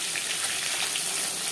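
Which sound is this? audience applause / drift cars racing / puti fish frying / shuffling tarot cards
puti fish frying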